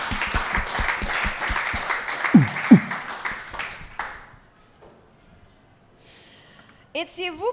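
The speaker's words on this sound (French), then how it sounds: "Applaudissez-vous, esti" A live comedy-podcast crowd in Trois-Rivières claps and cheers loudly, with shouting voices mixed into the applause; it fades to near quiet after about four seconds, then a voice breaks in close at the end.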